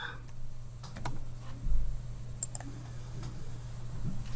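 Soft mouse clicks, including a double click, made while working in diagramming software, quiet tapping clicks scattered over a steady low hum with no talking.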